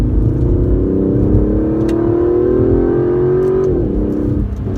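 An Aston Martin DB11 accelerates through corners, its engine a loud, steady drone that climbs in pitch, then dips briefly and falls near the end, heard close with no talking.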